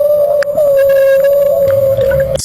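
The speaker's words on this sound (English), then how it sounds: "This is the sound of a humpback whale hunting." A humpback whale calls while hunting: one long, steady, loud tonal note that holds nearly unbroken for over two seconds, with faint clicks and low rumbling beneath it.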